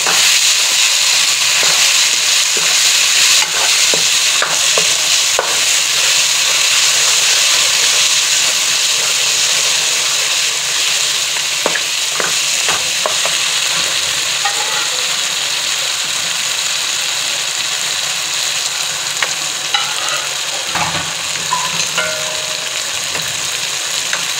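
Mutton karahi, Lahori style, fries loudly and continuously in a wok, with a hissing sizzle and occasional stirring knocks, close up and with no talking.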